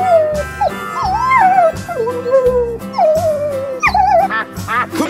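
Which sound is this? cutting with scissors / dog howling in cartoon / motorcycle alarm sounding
dog howling in cartoon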